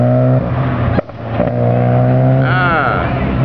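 A Chevrolet Cobalt accelerates hard on an SCCA autocross course, its engine revving loudly with rising pitch, briefly dipping before climbing again, recorded close by.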